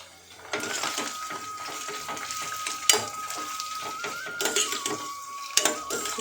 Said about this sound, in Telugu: భలే ఫ్రై అవుతున్నాయి కదండి